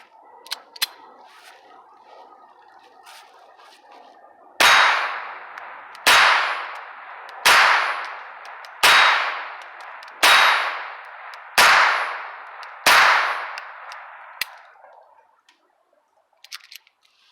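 Seven sharp gunshots from an FIE Titan .25 ACP pistol, fired in an evenly spaced sequence about every one and a half seconds, each a loud crack with a short ringing tail, preceded by quieter handling noise.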